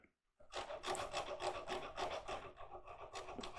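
A rasp files a wooden goblet spindle spinning on a lathe, giving a run of rapid, gritty rubbing strokes after a brief silence, close and fairly quiet, with no talk.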